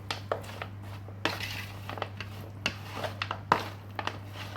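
Chicken salad made from leftover rotisserie chicken being tossed with sauce in a bowl, heard as scattered light clinks and scrapes of a utensil against the dish over a steady background hum.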